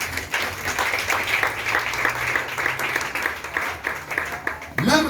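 A congregation applauds steadily at a church service marking an Independence Day celebration, dense sustained clapping filling the space with a voice heard talking over it.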